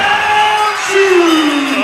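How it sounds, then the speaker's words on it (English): Crowd cheering at an 8 Blade Warriors fight event in Victoria, a loud close burst of whoops and yells with one rising shout near the middle. "And Johnny Cap, the crowd was going off that much."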